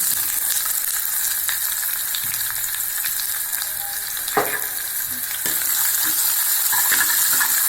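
Onions sizzling in hot sesame oil in a pan for a Tamil fenugreek curry, a loud, continuous frying hiss with occasional stirring clicks and scrapes, no talk.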